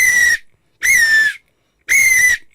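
A hand whistle blown three times during a community safety demonstration: shrill, steady blasts of about half a second each, separated by short silences, loud and close with no voices.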